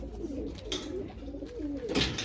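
A pigeon coos close by in soft, throaty rolling calls, repeated a few times with brief gaps.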